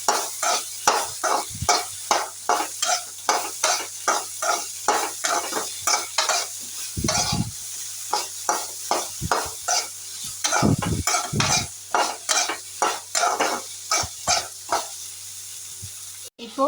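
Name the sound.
stirring broccoli in a frying pan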